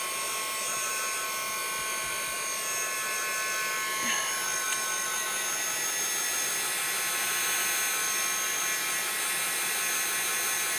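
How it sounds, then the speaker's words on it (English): A heat gun set on low blows to dry inks in a craft setting, giving a steady close whirring hiss with a faint tonal whine that runs continuously. "I'm going to use my heat gun."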